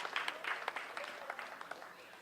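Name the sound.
audience applause for sound engineer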